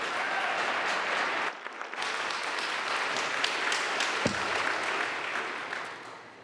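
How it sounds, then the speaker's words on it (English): A large audience at a celebration event applauds steadily and loudly, the clapping dense and sustained before tapering slightly at the end. "Let's give them a round of applause."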